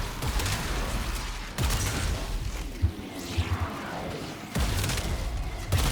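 Heavy bass-laden blasts from the Coda Bassocyst gun in Warframe, a few booming shots with sharp onsets separated by rumbling gaps and whooshing tails, alone with no voices.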